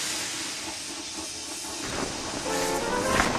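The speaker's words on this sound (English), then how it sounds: "He was so scared, he let out a huge burst of steam" James the steam engine, a cartoon locomotive, lets out a loud, broad burst of steam, a steady roaring hiss that fills the whole stretch and swells slightly toward the end, with no voices over it.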